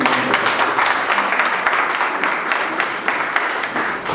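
Loud, sustained applause from a large audience, dense clapping filling the whole stretch without a break.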